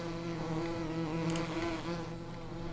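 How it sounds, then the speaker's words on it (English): Bees buzz in the farming video game Farming Simulator 2017, a steady, droning hum with layered tones that holds continuously at even loudness for a few seconds. "Do we have any bees?"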